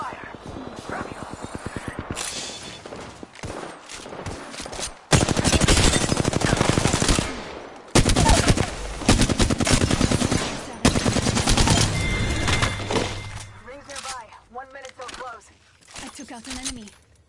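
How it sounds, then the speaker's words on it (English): Apex Legends gunfire comes in loud, rapid automatic bursts and single cracks, clustered and overlapping, with short pauses between volleys and game voice lines heard among the shots. "Taking fire!"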